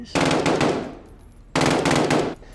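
Gunfire from the video game Call of Duty: Modern Warfare: two loud, dense bursts of rapid automatic fire, the first about a second and a half long and the second about a second, separated by a quieter stretch.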